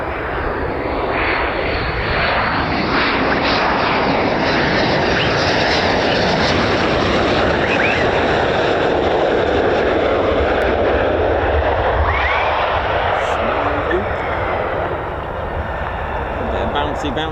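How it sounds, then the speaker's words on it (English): F-15 fighter jets taking off at a USAF base, a loud sustained engine roar that swells and shifts in pitch as the jets pass, filling the whole clip. "Oh, F-15s."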